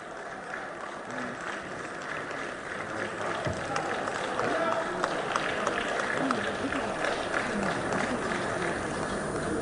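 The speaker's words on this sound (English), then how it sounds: "Thank you for that applause." An audience applauds at a formal Nigerian parliamentary ceremony, a dense wash of clapping that swells and holds steady at a moderate distance throughout.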